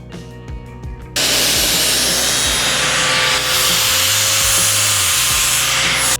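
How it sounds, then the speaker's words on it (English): A flap disc on an angle grinder rounds off the edges of a steel bumping-hammer head in a workshop, a loud continuous abrasive whir that starts abruptly after a second and holds steady. "just break all the edges off with the flappy disc so it's nice and round"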